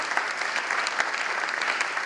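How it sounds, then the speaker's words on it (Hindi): A church congregation at a memorial mass bursting into loud, sustained applause, dense rapid clapping from many hands filling the hall with no pauses. "जरा जोरदार ताली बजनी चाहिए।"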